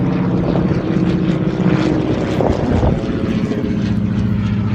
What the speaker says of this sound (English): there goes an airplane overhead